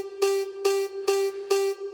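A Skrillex-style vocal chop sample on an E vowel, held on one root note, repeats in five quick, evenly spaced bright bursts, loud and electronic-sounding, with no talking.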